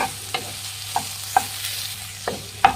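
Raw banana kabab manchurian stirred in a pan over a medium flame: a steady soft sizzle with a few sharp spoon scrapes and taps against the pan at uneven intervals, close and moderately loud.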